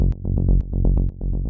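Rolling synth bass line in melodic techno style, played alone as a steady run of short, punchy low notes that stay on one register with no octave jumps.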